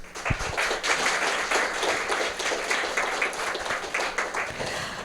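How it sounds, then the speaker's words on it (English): A studio audience applauds a guest introduced for a talk on karma and reincarnation: many hands clapping in a continuous, even wash, loud and close, with a single sharp clap near the start. "Let's give Ainslie MacLeod a big hand of applause"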